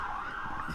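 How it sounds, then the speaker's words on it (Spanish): An ambulance siren wails steadily and fairly close, a sustained tone with no break and no voices over it. "está la ambulancia"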